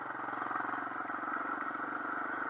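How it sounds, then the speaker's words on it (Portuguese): A Honda XL 250R motorcycle engine, all original, runs steadily at idle, a continuous close rumble with an even, pulsing rhythm and no voices. "Motorzinho original no ponto."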